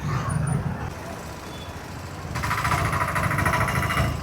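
A vehicle engine runs steadily while driving through narrow lanes, a continuous low rumble that swells louder in the second half.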